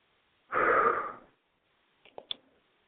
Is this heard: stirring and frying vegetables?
no